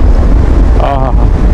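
Wind buffets the microphone while riding a motorbike along a highway between Pathankot and Banihal, a loud continuous low roar with a brief tonal whine partway through.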